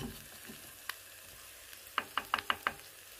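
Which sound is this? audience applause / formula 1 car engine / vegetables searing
vegetables searing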